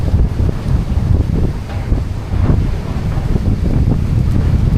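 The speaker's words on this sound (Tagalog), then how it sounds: "Grabe, lakas ng hangin." Strong typhoon wind on a beach roars and buffets the microphone in heavy gusts, blowing sand about, with surf rumbling beneath it throughout.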